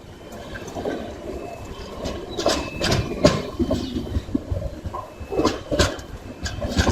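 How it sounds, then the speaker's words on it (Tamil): The 16593 Bengaluru–Nanded Express rolls slowly into Zaheerabad railway station, wheels clacking and squealing in irregular bursts, with a steady rumble throughout. "ஜஹீராபாத் ரயில்வே ஸ்டேஷன் என்டர் ஆயிட்டு இருக்கோம்."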